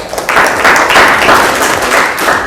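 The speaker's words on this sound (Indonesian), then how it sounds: "Kasih tepuk tangan dulu untuk kelompok satu." Students in a classroom applaud a discussion group, a loud, close burst of clapping with uneven rhythm that fills the whole moment.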